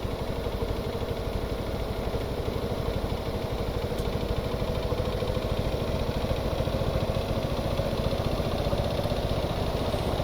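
A Metra F40PH-3 diesel locomotive engine in the game Stormworks runs at a steady, throbbing idle, a continuous low rumble with a rapid pulsing rhythm and no voices.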